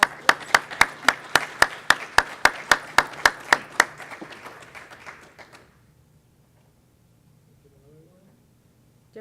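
Steady, evenly spaced claps ring out loud and close for about four seconds at an awards presentation, then thin out and fade into near silence with faint murmuring.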